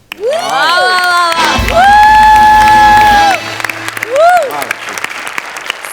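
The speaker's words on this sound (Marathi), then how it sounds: "आणि मी उभा राहून टाळ्या वाजवतो." A studio audience at a Marathi comedy show bursts into loud, sustained applause mixed with rising whoops and cheers, peaking and then trailing off into scattered claps.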